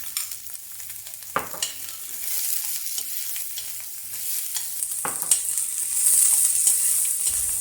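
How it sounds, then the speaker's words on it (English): Chopped onion sautéing in a pan for lamb curry, a steady close sizzle with periodic scraping stirs of a utensil, no voices. "add the chopped onion and saute for a few minutes until it becomes soft and slightly brown"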